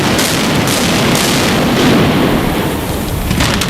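The Sands Casino Hotel in Atlantic City collapses in a demolition implosion, a loud, sustained rumbling roar of explosive charges and falling structure that stays steady throughout, with no talk.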